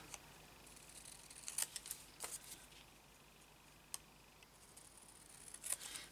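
Scissors cutting pieces off a paper envelope for a junk journal folio insert, a few faint, close, sparse snips and crisp paper crackles over a quiet room.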